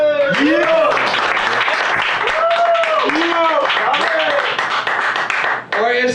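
A studio audience on a radio show claps and cheers loudly and steadily, the applause running under a presenter's voice with whooping tones from the crowd, then cutting off sharply near the end.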